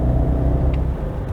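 A car accelerating hard in third gear through a corner, with a loud steady engine rumble and whir close by throughout.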